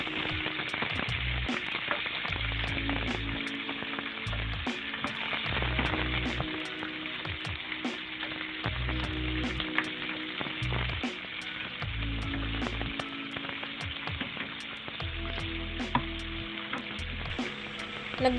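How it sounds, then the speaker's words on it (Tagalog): Squid sizzles and fries steadily in a pan, a dense crackling hiss with occasional pops and stirring sounds, close and continuous without talk. "Kapag magluluto tayo ng pusit, dapat madali lang."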